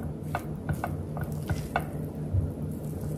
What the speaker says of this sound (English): Make sure you stir from the bottom so that it can all be well combined.